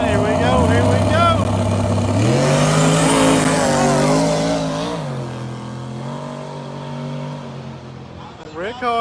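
A no-prep drag race car on a test pass: a loud, close engine roar revving up with shifting pitch as it accelerates, then fading as it moves away, with another engine rising at the end.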